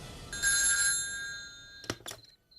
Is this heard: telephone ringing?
yes